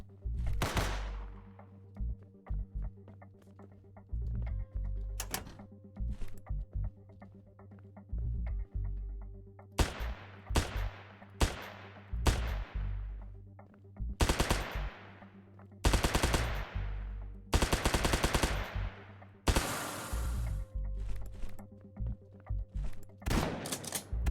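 Pistol fire in the video game Ohmacs, sharp repeated shot bursts in irregular clusters with short pauses, some single shots and some rapid volleys, loud and close over a low ambient hum.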